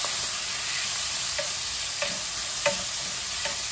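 Bacon sautés in a pan with a constant close sizzle, while a utensil stirs it in four or five soft, evenly spaced taps.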